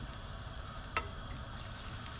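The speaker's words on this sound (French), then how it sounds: "on le pose tout doucement parce que l'huile il est trop chaud. Voilà, il gonfle." Moroccan beignet dough frying in very hot oil, a steady faint sizzle with one brief louder crackle partway through, no voices.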